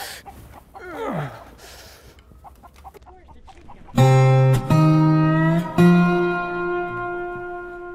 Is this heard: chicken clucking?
yes